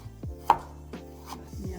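A knife chops ginger on a board in a few sharp, close knocks spaced unevenly across a short moment, with quiet kitchen background.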